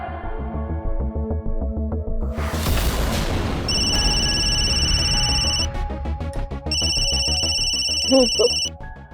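A phone ringtone sounds in a Hindi TV drama scene, a bright electronic ringing pattern that starts after a dramatic boom-like musical swell and repeats in two bursts over background score.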